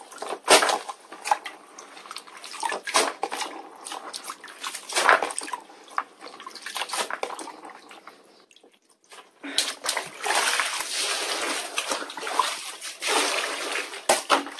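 Freshly cut garlic scapes being rinsed in water, with irregular splashing, sloshing and dripping close by, a brief quieter pause midway, then more continuous washing and trickling.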